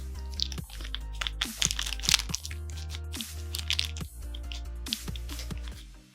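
Crinkly plastic wrapper of a Magic: The Gathering Bloomburrow booster pack being opened, close and crisp with crackles and crunches scattered over several seconds beneath a steady low hum.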